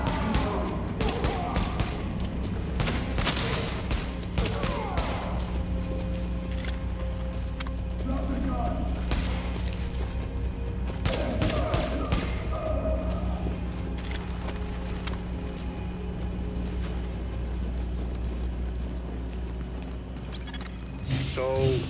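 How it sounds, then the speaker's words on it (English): Gunfire in Tom Clancy's The Division, with bursts of shots crackling over a busy mix of game sounds and vehicle rumble, and voices talking throughout. "Shooting, that was you, right?"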